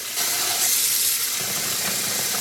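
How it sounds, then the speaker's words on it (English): Water runs from a tap into a dye pot, a constant rushing pour that fills the space up close, with no voices. "I'm going to fill this up again to rinse out the soap"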